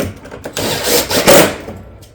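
Fasteners being driven into a metal barrel vault roof panel with a power driver, a loud close whirring burst lasting about a second followed by a second shorter buzz.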